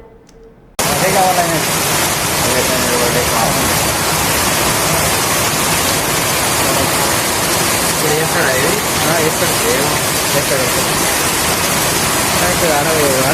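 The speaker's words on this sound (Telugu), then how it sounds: "ప్రాంతాల్లో వర్షం ఎడితెరిపి లేకుండా కురుస్తుంది" Heavy, incessant rain pouring onto streets and roads, a dense, loud, steady hiss that starts abruptly and continues unbroken to the end.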